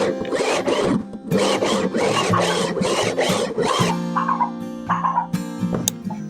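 A steel file rasps across a guitar fret during an acoustic guitar refret, giving a loud run of even back-and-forth strokes, then ringing metallic tones as the strokes thin out.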